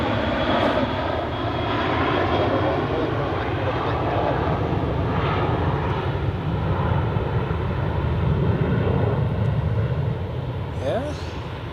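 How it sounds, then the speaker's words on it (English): KLM Boeing 737-700 jet departing Zurich Airport, a steady loud broadband engine roar sustained throughout at moderate distance, with a faint voice briefly audible. "Here we have KLM departing to Amsterdam with a 737-700."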